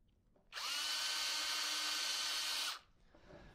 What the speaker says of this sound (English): use the 3/32 drill bit and drill out those holes